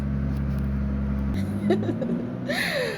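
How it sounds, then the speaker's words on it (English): A noisy truck outside gives a loud low engine drone that drops in pitch and fades as it moves off. A voice is heard over the rumble. "I'm gonna have to pause again because of this noisy truck."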